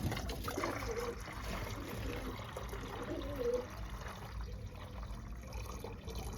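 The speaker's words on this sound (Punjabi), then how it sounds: "ਹੁਣ ਆਪਾਂ ਗਰਮ ਜਿਹਾ ਪਾਣੀ ਪਾ ਲਈ" Warm water trickles and pours faintly and steadily into a container near pigeons, a soft continuous liquid stream under low background noise.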